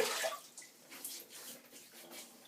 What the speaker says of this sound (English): let's get some water on my face.